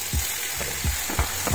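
Colocasia stalks frying in a hot pan with mustard seeds, shallots and curry leaves, a steady close sizzle broken by several soft stirring scrapes.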